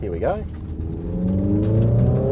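A car's artificial ignition-mode engine sound, played through its speakers to mimic an internal combustion engine, rises as a steady rumbling drone with climbing pitch, starting just after a short spoken phrase and holding loud to the end.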